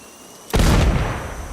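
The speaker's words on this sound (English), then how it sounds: "That was an explosion!" A sudden loud explosion in the video game Sniper Ghost Warrior Contracts 2 booms in at once, then rumbles and decays over about a second, with no talk.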